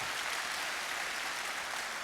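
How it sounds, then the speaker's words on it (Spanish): A church congregation claps for a short stretch in a steady, dense wash of applause at even loudness. No voices come through. "Denle un aplauso al Rey bendito."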